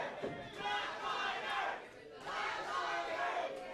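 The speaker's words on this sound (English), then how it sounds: "Crowd chanting for the Flatliners here tonight." An independent wrestling show's audience in Canada chants in unison, two loud rhythmic swells with a brief dip between them, filling the hall and sounding close.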